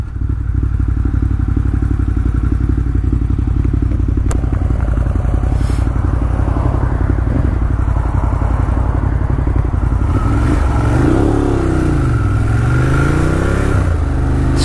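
A 2018 Ducati Monster 1200S with an aftermarket exhaust pipe runs loud and close, a continuous deep engine drone with rising and falling revs toward the end, with no talk.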